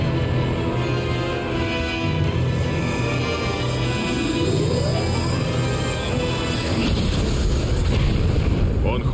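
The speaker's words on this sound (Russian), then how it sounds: "О, это плазменная пушка." Plasma cannon firing during a Knack 2 boss fight: a dense, continuous roaring blast with rumbling bursts, loud and sustained over in-game music and effects, swelling toward the end.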